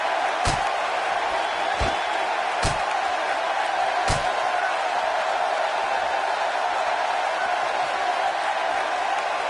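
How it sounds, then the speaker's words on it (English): A wrestler is slammed onto the ring with a Uranage at WWE Crown Jewel 2019, heard as a few sharp heavy thuds over a constant loud arena crowd roar. "Bray Wyatt drives his opponent down with a Uranagi"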